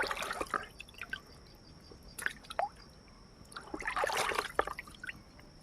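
Water splashes and drips in bursts while raw chicken is rinsed clean at home for a curry, intermittent trickling and squishy handling sounds close by, with quieter gaps between.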